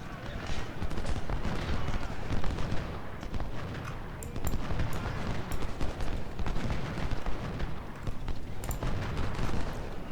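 Continuous massed musket volleys and booming cannon fire from an American Civil War battle in a strategy game, a dense, loud, unbroken roar of overlapping shots with sharper cracks poking through.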